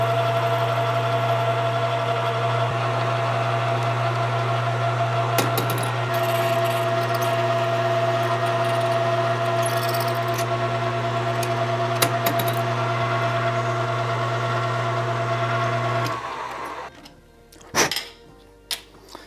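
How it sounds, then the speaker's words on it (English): A lathe drills and faces 8mm holes in steel pivots, its motor giving a steady droning hum with faint cutting noise for most of the time, then winding down to a stop followed by a few clunks. "So let's go to the lathe."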